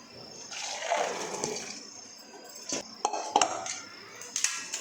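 Boiled chana dal is tipped out of a metal pot to drain, with scraping and clattering of the vessel over a rushing, hissing pour and a few sharp metallic knocks near the end.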